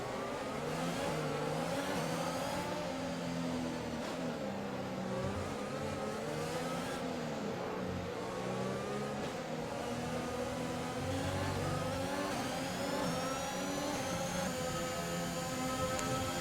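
An F1 2021 race car at the Azerbaijan Grand Prix, suffering engine trouble, sustains a steady high-revving whine through the whole stretch, with shifting pitch and no talking over it.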